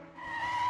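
Tyres of a Subaru BRZ squeal in a sustained, rising skid on a race track, loud and alone for under a second.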